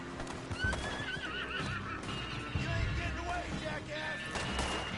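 A horse in Red Dead Online whinnies shrilly after being shot, with hoof clip-clop, gunfire and game noise around it and a voice talking over the scene.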